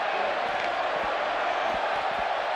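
An arena crowd in the wrestling video game WWE 2K18 cheers and roars in a loud sustained wash, with a commentator talking over it.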